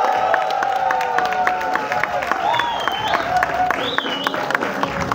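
Audience applause fills a trailer launch event for a Marathi film, steady sustained clapping and crowd cheering from a hall, with scattered whistles rising over the ongoing applause.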